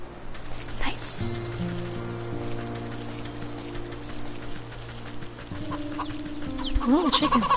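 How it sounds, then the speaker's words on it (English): Chickens cluck in the video game Wytchwood, a few short calls rising near the end over a steady bed of game music and ambience, with a voice briefly present. "Little chickens."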